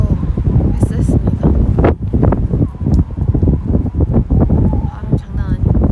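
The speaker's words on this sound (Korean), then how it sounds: "바람 장난 아니고." Fierce wind buffets the microphone while cycling through a mountain pass among cherry blossoms, a loud continuous roar with gusty fluttering bursts throughout, and a voice speaking beneath it.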